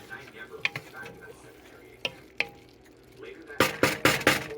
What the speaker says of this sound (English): Get this guy a stir.